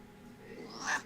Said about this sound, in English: Now I got a kitty cat friend.